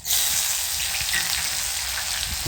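Steady, loud sizzling of chopped onions frying in hot oil for a fish curry, a continuous crackling hiss throughout with a faint stir or clink near the end.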